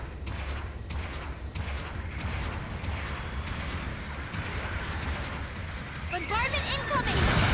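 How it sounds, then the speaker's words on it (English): Artillery bombardment rains down in Gundam Battle Operation 2: a heavy, continuous rumble of shelling that grows louder near the end, where warbling tonal effects join the din. "Bombardment incoming!"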